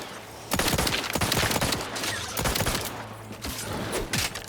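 Rapid bursts of weapon fire in the sci-fi shooter game The Outer Worlds 2, repeated volleys of loud close shots with brief gaps, no talk.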